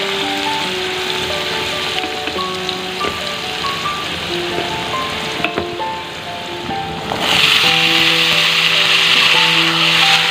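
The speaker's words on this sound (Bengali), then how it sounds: "একটু ভাজা ভাজা করে নেবো।" Potatoes fry in a pan of oil tempered with nigella seeds, a continuous crackling sizzle that grows brighter and louder partway through, with soft background music underneath.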